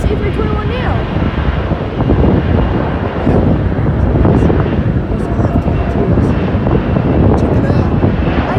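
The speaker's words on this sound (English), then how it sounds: "F-22 Raptor flying over us with a Frontier Airbus A321neo." F-22 Raptor fighter jets and a Frontier Airbus A321neo airliner flying overhead near Norfolk International Airport, a loud continuous jet roar with wind buffeting the microphone throughout, with people talking at times.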